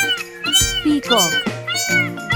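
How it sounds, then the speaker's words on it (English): A peacock, the bird with large iridescent tail feathers, lets out several loud, wailing, cat-like calls in quick succession, close and prominent over a low steady background tone. "Peacock."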